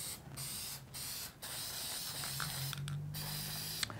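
Spray paint can hissing onto a skateboard deck in several sustained bursts with short pauses between them, close and steady, no talking.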